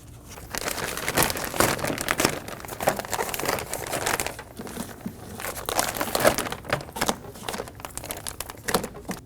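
Plastic window switch panel on a Scion xB door being pried and pulled straight up, giving a run of close crinkling, crackling and snapping plastic noises across the whole stretch.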